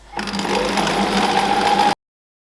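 A sewing machine stitches through several layers of fabric pieces for a golf trolley caddy bag, giving a loud, close, steady motor whir that runs for about two seconds and stops abruptly.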